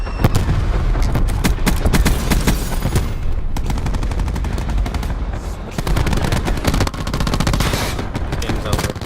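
Video game gunfire rattles without a break, with rapid machine-gun bursts mixed with heavier booms and blasts. The sound stays loud and dense for the whole stretch.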